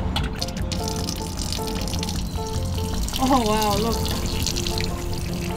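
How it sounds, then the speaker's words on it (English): Sparkling water runs steadily from a push-button public drinking fountain dispensing chilled carbonated water in Paris, a continuous near splash under brief speech and a rising whistle-like tone. "It says cool water, but this one is sparkling water. So I'm just gonna push the button."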